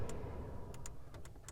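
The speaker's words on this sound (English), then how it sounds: "I do love this clicking sound" Air conditioning switches in a 2021 Audi A3 Sportback cabin clicking, about eight short, crisp clicks in an uneven rhythm, close by and faint over a low interior hum, with no talk.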